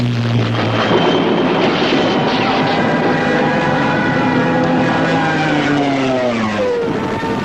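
WWII German Luftwaffe fighter planes flying, a loud steady propeller-engine drone with a falling pitch sweep near the end as aircraft pass, continuous and without talk.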